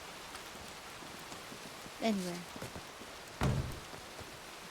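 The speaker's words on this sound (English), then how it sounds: "It's probably just the rain." Rain in the GoldRush RP game patters steadily as a soft, even hiss, while a person speaks briefly over it and a couple of short thumps sound.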